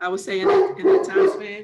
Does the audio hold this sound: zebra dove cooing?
no